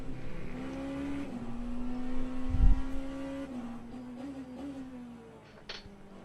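Race car engines of a Ferrari 499 and a Porsche 963 in a sim racing game at Brazil, a steady droning hum with one brief louder surge, moderately distant and fairly quiet.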